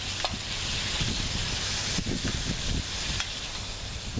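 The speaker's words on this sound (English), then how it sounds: "our steakums are starting to cook up nice" Steak-umm sliced steak frying in a pan in a camper van kitchen for Philly cheesesteak, a dense continuous sizzle and hiss with faint stirring scrapes, close and steady, no talking.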